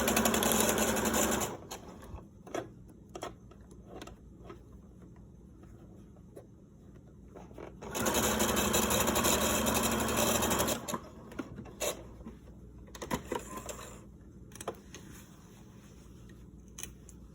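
A sewing machine stitches fabric for a chicken-shaped grocery bag holder. It comes in loud, close bursts, one short and one longer, separated by quiet stretches with light handling clicks.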